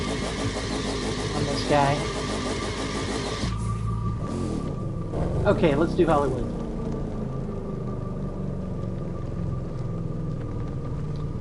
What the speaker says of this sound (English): Just listen to that engine. Oh, that's sexy. That big old rumble.